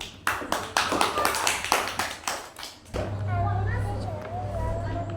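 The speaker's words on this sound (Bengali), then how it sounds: "একটা হাততালি দাও।" Children in a classroom clap hands in a quick run of about a dozen sharp, close claps, then stop as people talk over a steady low hum.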